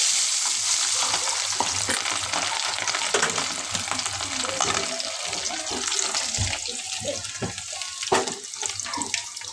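Garlic frying in hot tempering oil for a raw mango pickle, a strong continuous sizzle with stirring clatter and scraping throughout, close and loud, without speech.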